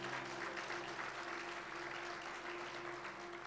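A church congregation applauds the Lord after a sermon reading, a dense, continuous wash of clapping heard from afar over a low hum, with no speech on top.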